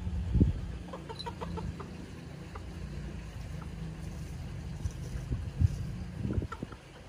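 Chickens cluck in a village setting, with several short clucks near the start and end over a low, steady background rumble, moderately close and with no talk.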